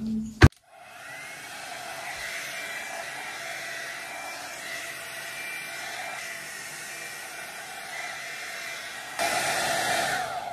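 A hair dryer blows steadily at close range while drying hair, a continuous whooshing hum that runs for about ten seconds after a sharp click, rising slightly louder near the end.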